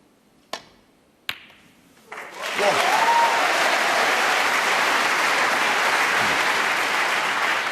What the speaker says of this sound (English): Not often you get a terrific round of applause for a pretty straightforward shot